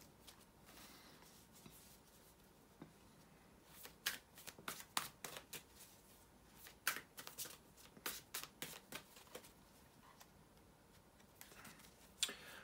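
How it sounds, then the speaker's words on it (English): Tarot cards being shuffled in a quiet room, a run of crisp riffling snaps that come in bursts, soft at first and then steady and close. "bear with me a second, guys, to shuffle the tarot cards"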